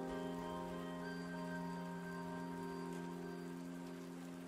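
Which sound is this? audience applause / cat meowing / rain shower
rain shower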